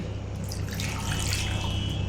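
Water is poured into fried masala for an egg curry gravy, a steady close splashing and trickling that continues throughout without pause.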